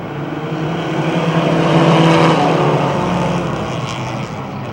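Four-cylinder American Flyers race cars at an oval speedway surge away on the green flag, a loud, dense roar of several engines building and holding steady.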